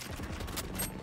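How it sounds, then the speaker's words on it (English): Rapid burst of video game gunfire during a ranked match, a quick crackling volley of shots heard faintly in the mix for about a second. "I'm fucking shooting. I'm shooting."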